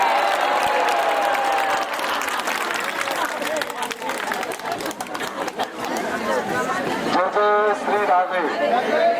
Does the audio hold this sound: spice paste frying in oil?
no